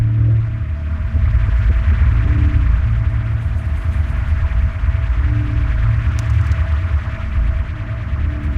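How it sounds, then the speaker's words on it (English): A steady low hum fills the space alone, its deep drone swelling louder and softer in a slow throb, with a faint constant tone above it and no voices. "And then I would start to hear this steady hum, and it kind of gets louder and softer,"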